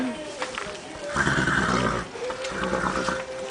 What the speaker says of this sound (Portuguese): Que bonitinho ele relinchando